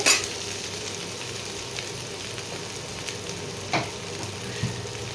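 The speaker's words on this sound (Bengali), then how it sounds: "সব একসঙ্গে আলু ফুলকপি ভালো করে একটু ভেজে নেব।" Potatoes and cauliflower frying together in a pan give a steady, moderate sizzle, with a couple of brief clinks of a utensil against the pan.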